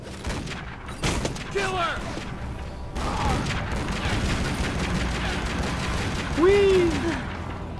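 Gunfire in the Tomb Raider: Legend video game: sharp bursts of shots near the start and again around the middle, over steady background noise, with voices shouting throughout.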